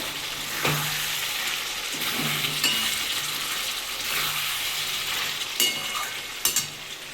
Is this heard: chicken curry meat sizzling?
yes